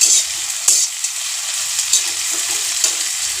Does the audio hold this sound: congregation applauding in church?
no